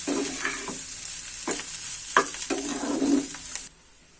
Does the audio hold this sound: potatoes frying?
yes